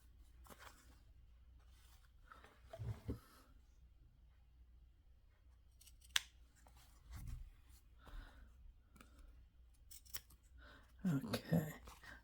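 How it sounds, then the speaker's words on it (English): Scissors cut paper for a handmade junk journal cover, giving a few quiet snips and crunches spaced through the clip alongside faint handling rustles, close but soft. "We'll cut these little pieces off."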